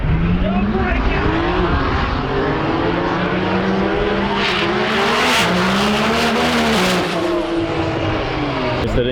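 Two drag cars, a twin-turbo Dodge Viper and a Nissan GT-R, scream past at over 200 mph at a TX2K21 roll race, loud rising and falling engine notes with gear shifts, while a voice talks over them.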